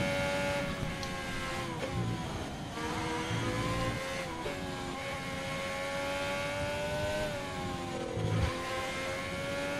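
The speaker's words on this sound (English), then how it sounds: "It's a good time to turn up the engine" Racing car engine in an Xbox One racing league game, steady droning whine with harmonic pitch shifts as it revs up and down, continuous and close over about ten seconds.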